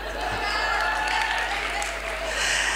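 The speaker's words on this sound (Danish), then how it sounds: "Og alle klapper altid," Audience applause during a talk, a dense steady wash of clapping throughout, fairly loud, with a voice faintly present beneath.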